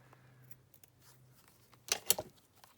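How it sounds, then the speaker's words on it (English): Scissors trimming a paper craft tag made with pressed flower stickers: a few quiet snips, then two sharper close cuts near the end, with light handling rustle. "let's trim all these bits down"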